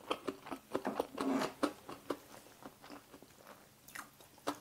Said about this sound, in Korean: 플레이크가 굉장히 바삭바삭해요.